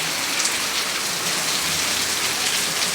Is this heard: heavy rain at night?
yes